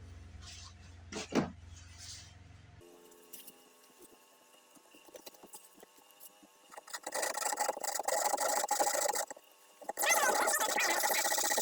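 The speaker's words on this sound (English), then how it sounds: "I'm going to see if I can take that down a little bit with the Shinto rasp" Shinto rasp filing down an uneven spot on a wooden guitar neck, a rough rasping scrape starting faintly after a brief knock, then growing into loud repeated strokes toward the end.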